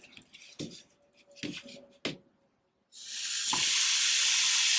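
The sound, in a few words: hamburger sizzling in a Dash egg bite maker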